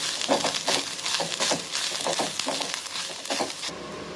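Curry leaves and masala sautéing in a pan for a bitter gourd stuffed fry, giving a busy close sizzle with rhythmic scraping strokes of a stirring spoon, fairly quiet and steady.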